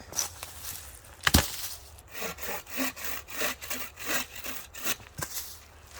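A sharp knife carves a wooden stake to a point outdoors, making a quick series of rough scraping, shaving strokes in an uneven rhythm, close and moderately loud.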